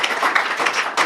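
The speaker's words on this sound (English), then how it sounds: "Let's have a round of applause for it." A live audience at a British Interplanetary Society event breaks into brief, dense applause, many hands clapping loudly and evenly throughout.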